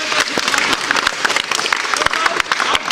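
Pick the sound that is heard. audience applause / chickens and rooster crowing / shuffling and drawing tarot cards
audience applause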